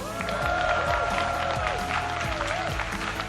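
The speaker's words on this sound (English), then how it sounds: "Give him a round of applause." Applause and cheering from the crowd at an esports grand final fill the hall steadily, with music and an announcer's voice running underneath.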